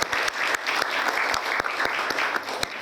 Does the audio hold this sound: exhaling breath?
no